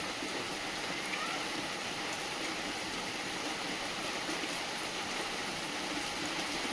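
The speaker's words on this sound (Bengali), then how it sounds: "এই যে বলতে বলতে খুব জোরে ঝমঝমিয়ে বৃষ্টি চলে এলো" Heavy rain pouring down on a cloudy day, a dense, steady broadband hiss and patter that stays even and moderately loud throughout, with no voices.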